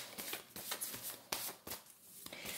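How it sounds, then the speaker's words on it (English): A deck of oracle cards is shuffled by hand, giving a series of quick riffling bursts and soft slaps at close range, fairly quiet. "I want to pull some oracle cards to get some additional"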